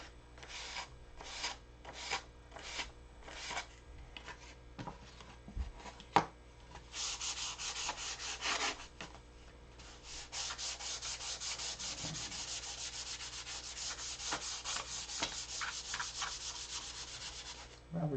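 Hand sanding on wood: rhythmic scraping strokes at first, then a longer stretch of steady, rapid rubbing, close and clear.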